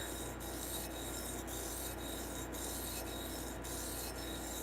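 A knife is sharpened freehand on a sharpening stone, with a steady rasping rub broken by regular strokes about every half second, close up and with no voices.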